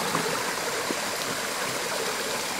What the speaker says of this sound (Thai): ตรงนี้ก็น้ำเต็มฝาอีกเช่นกัน น้ำเต็มมาก